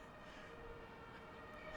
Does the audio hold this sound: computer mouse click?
no